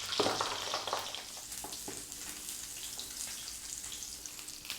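Salmon pan-frying in burning, blackening butter, a steady close sizzle and crackle with scattered pops throughout, no voices.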